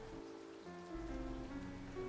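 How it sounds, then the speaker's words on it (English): Steady rain patters softly as a stage sound effect in a theater production, a faint even hiss with no voices. "It's raining, Dustin."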